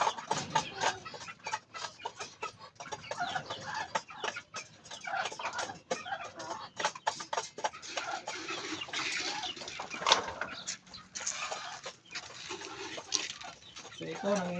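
A caged hen clucks in soft, irregular bursts amid a busy farmyard backdrop, quiet and somewhat distant, with a person talking at times in between.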